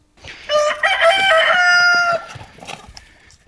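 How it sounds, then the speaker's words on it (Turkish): A rooster crows once, loud and close, in a garden where roosters run after a ball. A few faint clucks and rustles trail off afterward. "çeye gelen Demir, top oynadıkları sırada horozların topa koşuştuğunu gördü."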